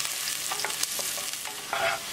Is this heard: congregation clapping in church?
no